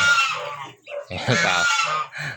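Rhode Island White and Leghorn cross chickens cluck and squawk up close, several birds calling in quick overlapping bursts with brief gaps.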